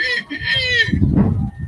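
A man mimics a rooster crowing, a short high-pitched strained cock-a-doodle call, close and loud, followed by a lower rough vocal sound.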